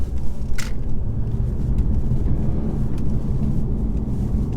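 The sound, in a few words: 2019 Mercedes E400d car accelerating hard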